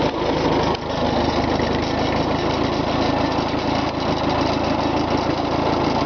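A vehicle engine idles at low speed with a steady, rough, close drone that briefly dips near the start and then holds even throughout.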